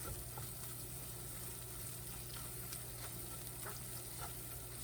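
Homemade sausage gravy simmering in a pan, a steady low sizzle and faint bubbling with a few soft stirring scrapes, continuous and fairly quiet with no talking.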